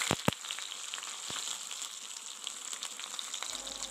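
Fenugreek and garlic sizzle in hot oil for a fish curry, a soft, steady crackle and hiss close by with a few sharp pops at the start, no voices.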